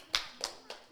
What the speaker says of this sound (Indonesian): Iya, tepuk tangan untuk dia.